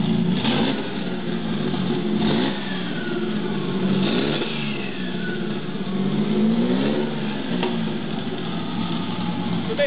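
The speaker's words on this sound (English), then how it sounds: "This simulates this motor running inside your engine bay." A 500hp Nissan VQ35DE V6 running on a stand outside a vehicle, with its own wiring harness and accelerator pedal, revving repeatedly in rising and falling bursts, loud and close, with no talk.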